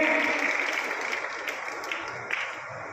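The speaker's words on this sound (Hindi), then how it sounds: "उनका भी जोरदार तालियों से अभिनंदन" Loud, dense applause from a crowd welcoming guests at a Baba Ramdev gathering in Khanda Kheri, Hisar, a steady wash of clapping that holds for the full three seconds.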